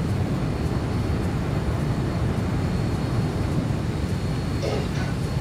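A Boeing 737-800 taxis in X-Plane 11, a loud, steady broadband engine roar and rumble holding evenly throughout, with a brief faint click near the end.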